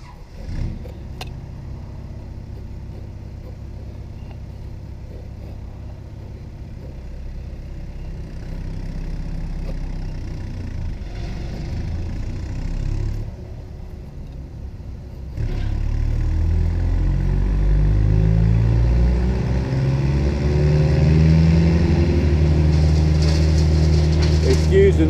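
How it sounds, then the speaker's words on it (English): Wood chipper chipping felled trees in the background, a steady low engine drone that grows louder and heavier partway through, with speech running over it. "They're taking down trees, and I think they're chipping them."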